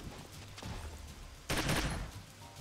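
Gunfire in the Troubleshooter video game, with a few muffled pops followed by a loud, harsh burst of shots up close.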